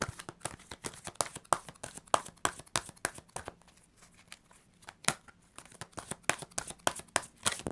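Oracle tarot cards being shuffled and drawn during a fortune reading: rapid crisp riffling and slapping card sounds in irregular bursts, close and fairly loud, with a brief quieter pause midway.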